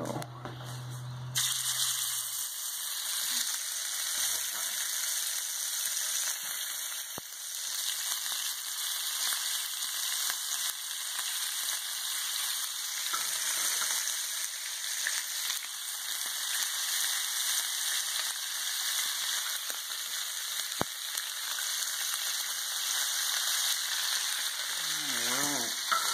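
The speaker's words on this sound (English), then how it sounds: "we're going to start off by just throwing these chops in these skillets, getting a nice fried sear on them" Pork chops sear in skillets over just-below medium-high heat, a steady broadband sizzle holding evenly throughout with a brief low hum at the start and no talk.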